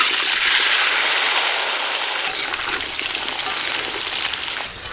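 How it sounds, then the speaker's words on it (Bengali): Potatoes fry in very hot oil for a goat meat curry, producing a loud, dense, continuous sizzle that holds steady and then eases slightly toward the end, with no talking. "আলুগুলো একটু লাল লাল করে ভাজবো।"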